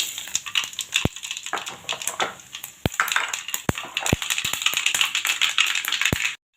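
Mustard seeds crackling and popping in hot oil alongside cumin for a brinjal curry tempering, a dense run of sharp close pops and ticks over a light sizzle, ending abruptly.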